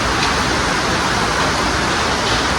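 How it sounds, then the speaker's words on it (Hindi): Heavy rain pours down steadily in Port Blair in the Andaman Islands, a dense, loud and continuous hiss that fills the whole scene with no break. "आपको मैं दिखा दूँ कितनी तेज बारिश हो रही है।"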